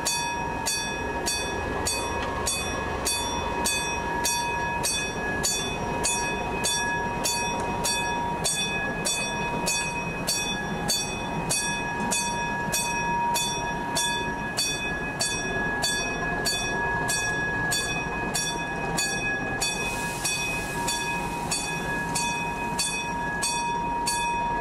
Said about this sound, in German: Ein 650 PS starker Sechszylinder-Schiffsdiesel